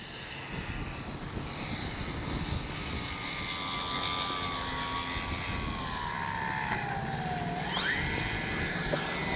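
A Dynam Tucano RC airplane flies past with a steady whining electric motor whose pitch slowly falls, then rises sharply near the end, heard against constant outdoor background.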